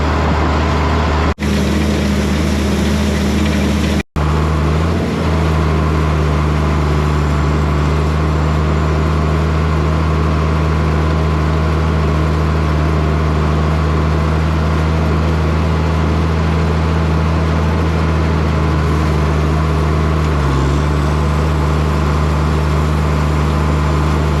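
A tractor raking hay windrows runs at a steady, unchanging drone that is loud and close for the whole stretch, with a sharp click near the start. No voices are heard.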